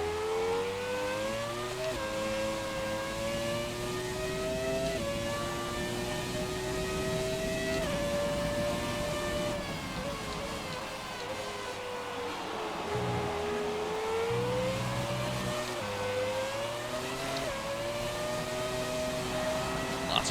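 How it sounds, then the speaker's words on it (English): Open-wheel race car engine in the F1 2017 video game revving hard and steady through the gears on a wet track, wheels spinning, with sweeping pitch rises and dips as it shifts, loud and continuous for the whole stretch. "Lots of wheel spin even through 4th gear."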